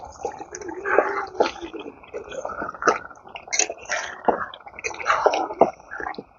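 Meat simmering with a little water in a pot, wet squishing bubbles and irregular drips popping close up, moderately loud and uneven.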